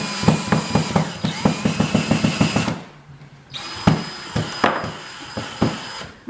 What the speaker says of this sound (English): My husband calls that stripping the screw.